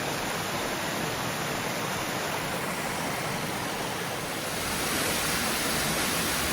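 Rushing creek cascade at Big South Fork, a steady broadband roar of tumbling water, loud and close, continuous throughout with no voices.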